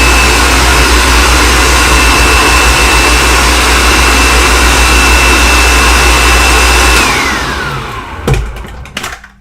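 A food processor blends cooked lentils for fermented hummus, whirring at a loud, steady high speed for several seconds, then winding down and stopping, followed by a few clattering knocks.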